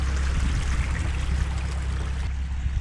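Flowing water rushes continuously, loud and close, with a steady low drone running underneath.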